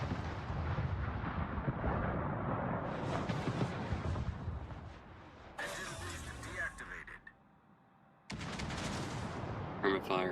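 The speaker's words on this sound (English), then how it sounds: "The Zoom is shooting HE at him" In World of Warships, ship guns fire HE shells, booming blasts and mechanical rumble with a sharp burst later on, mixed with game effects and someone speaking throughout.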